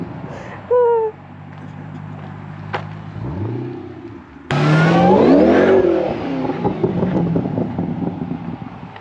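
A Pontiac GTO V8 engine revs and accelerates hard, its roar surging and climbing in pitch close by with wind rushing past, after an earlier brief rev and idle.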